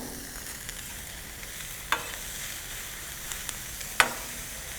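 Onions and jalapeño softening in a pan with taco seasoning give off a faint, steady sizzle, broken by a couple of sharp clinks of a utensil on the pan.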